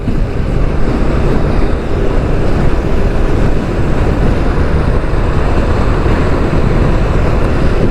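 Loud, constant wind roar over the Padma River near the Padma Bridge, buffeting the microphone outdoors, a dense rushing blow with no pauses and no speech.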